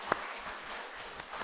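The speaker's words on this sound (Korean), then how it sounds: "수고한다고 박수 한번 칠까요?" A church congregation at a youth worship service claps in appreciation, a faint, even patter of many hands heard from a distance with one sharper clap near the start.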